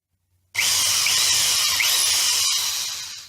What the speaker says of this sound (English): It is a lot easier drilling through hardwood with a much skinnier bit